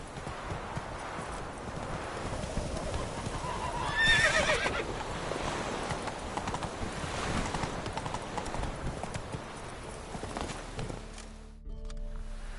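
Horse hooves clip-clopping at a walk with a whinny partway through in The Witcher 3, a steady rhythmic plod under ambient game sound, no speech.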